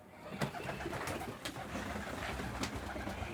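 An elderly teddy pigeon, a fancy breed, coos softly in a few low, throaty bursts over steady background noise.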